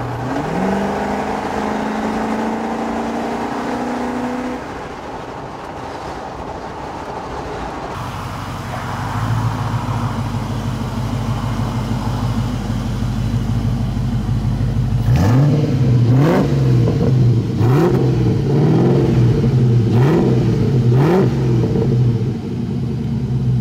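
A Land Rover Defender 110 converted from TD5 to a 4.6 V8 with a 2.5-inch exhaust tip, revving hard and rumbling loud and close, with a deep steady drone that swells into several sharp throttle blips near the end.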